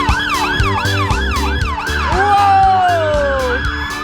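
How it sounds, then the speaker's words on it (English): Fire engine sirens wail loud and close during a firefighter training exercise, with repeated rising-falling yelps that give way to a long sweeping tone over a low rumbling engine drone. "Those sirens and the sound of fire engines on their way!"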